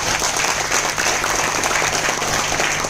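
Loud, continuous applause from a large crowd, dense and steady throughout with no pauses.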